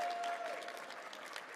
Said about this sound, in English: One more round of applause for that match.